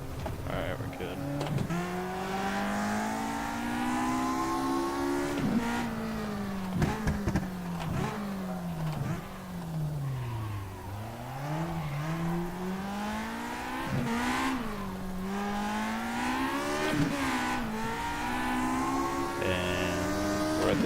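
A race car engine in the rFactor 2 sim racing game, revving up and down through repeated gear shifts and braking, loud and continuous over a full lap section.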